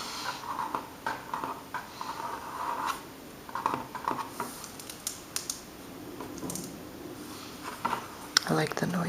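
Pages of a children's book crinkle and rustle softly up close in a string of short taps and scratches, under quiet whispering.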